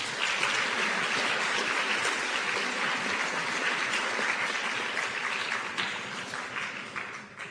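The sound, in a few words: audience applause for the debate co-sponsors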